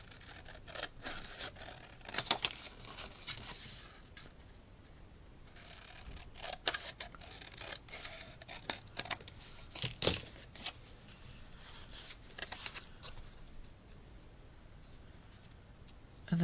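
Scissors cut out paper pieces for a handmade flip flap journal, giving intermittent sharp snips and paper rustles at close range, spaced irregularly across a quiet background with no speech.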